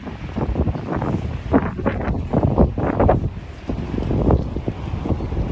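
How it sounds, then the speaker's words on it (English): Wind blowing outdoors along a wooded trail, rough gusty rumbling buffets that swell and fade across the whole stretch, close and fairly loud with no talking. "I think the wind has a sound above and beyond what it interacts with"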